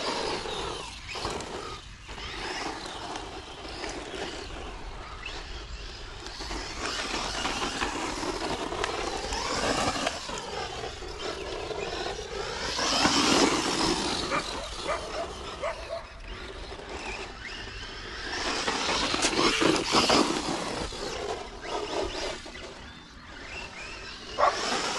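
A Rlaarlo Omni-Terminator 1/12-scale RC monster truck driven at full throttle outdoors, its electric motor whining and rising in pitch in repeated bursts, with tire and gravel noise over about 25 seconds and no talk.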